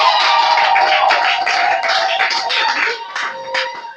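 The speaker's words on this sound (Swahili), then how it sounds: "Hebu mchapie Bwana makofi mengi." A church congregation claps hands for the Lord, a dense, steady round of many hands applauding together, loud and close, with faint voices mixed in.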